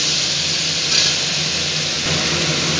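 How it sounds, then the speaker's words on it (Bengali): Chopped flat beans fry in a pan, making a loud, constant sizzle with a steamy hiss and a brief scrape of stirring near the middle. "সিমগুলো দিয়ে ভালো করে নাড়িয়ে চাড়িয়ে নেব"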